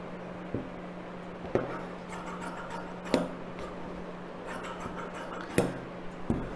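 Scissors snipping through blouse fabric during cross-cut blouse tailoring, a few sharp, separate cuts at irregular intervals over a steady low hum, close and fairly quiet.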